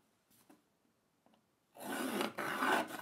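A pencil marks a cutout on wood, first with a few faint light taps, then with a steady close scratching rub lasting over a second.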